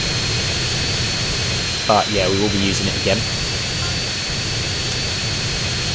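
A jet airplane drones steadily in flight in GTA San Andreas, a constant loud engine roar filling the whole stretch while someone talks briefly over it.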